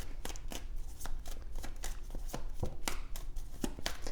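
Tarot cards being shuffled and drawn by hand, a close series of crisp papery snaps and flicks in a fairly steady rhythm, with no voices over them.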